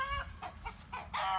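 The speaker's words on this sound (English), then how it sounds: "the chickens don't seem to want to be cooperating with us, so just bear with us, please" Chickens clucking in short repeated bursts, fairly close, with a few clucks following one another over a second or so.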